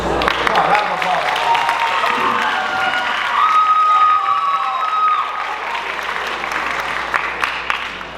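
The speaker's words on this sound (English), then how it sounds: "Come on, round of applause." A college crowd at the Mr. Juniata pageant claps and cheers for a contestant about to do stand-up, with a sustained roar of applause, some shouts and whistles, and voices mixed in.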